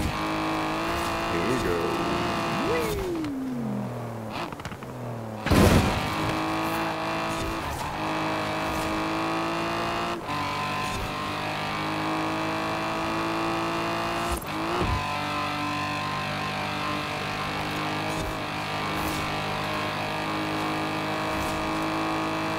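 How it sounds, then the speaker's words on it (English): Rally car engine in Forza Horizon 4 on a custom track, droning at a steady high pitch with gear changes, brief tyre squeals and a sharp impact partway through, running continuously throughout. "Actually got a pretty good top speed for a rally car."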